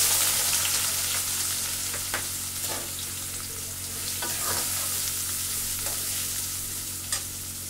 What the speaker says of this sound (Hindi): प्याज को हमें ब्राउन होने तक फ्राई करना है।